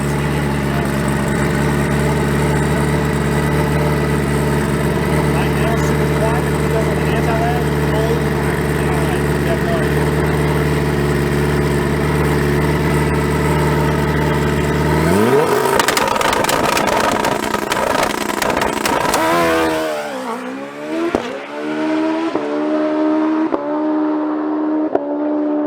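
A turbocharged Suzuki GSX-R 1000 motorcycle at a drag track idles loudly and steadily up close, then its engine revs up sharply and blips through a few throttle swells before settling.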